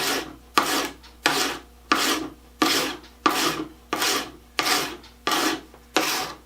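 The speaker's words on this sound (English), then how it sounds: "rubbing a piece of plastic with a stick. Nope, I'm sanding it." Hand sanding the plastic engine shroud of a Sportfisher 5 hp outboard: steady rhythmic rasping strokes, about ten back-and-forth passes, close and fairly loud with no talking.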